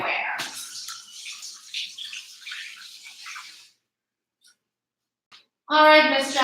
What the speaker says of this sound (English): I'm going to rinse my hand and come right back.